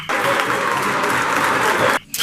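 Basketball fans in an arena applaud a successful free throw at a 2023 Haut-Katanga championship game, a dense burst of clapping and crowd noise lasting about two seconds before stopping abruptly.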